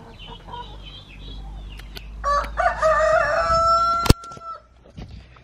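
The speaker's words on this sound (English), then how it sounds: "That's a big rooster." A big rooster crows loudly and close by in a rural yard in Mexico, one long rising-and-falling call over faint background clucking and ambient noise.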